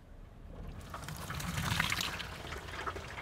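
A 2019 Range Rover Evoque crossover noses down a slope into deep water during an off-road test, a soft rushing, swishing splash that builds and then fades, fairly quiet and heard without speech.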